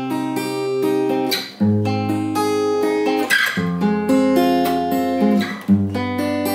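Acoustic guitar fingerpicked in a steady arpeggiated pattern through several chords including G, without barre chords, plucked notes ringing clearly and close with brief pauses between chord changes, no talking.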